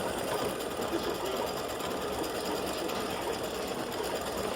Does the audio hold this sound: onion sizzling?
no